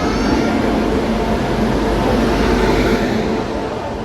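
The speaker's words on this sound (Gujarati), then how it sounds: "જુનાગઢના લોકેશન ઉપર ટ્રેન આવી રહી છે" The Junagadh–Pune express arriving at the platform at Junagadh station: a loud, steady, broadband rumble and roar that holds without a break.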